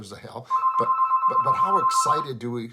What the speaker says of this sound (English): that's my phone ring